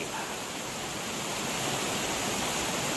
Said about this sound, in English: A creek we've been following down there. It comes out of that hole in the ground right in front of us.